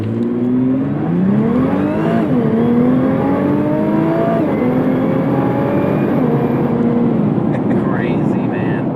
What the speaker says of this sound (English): you're going to see what it's like to be in the driver and passenger seat as we go on the highway at some crazy high speeds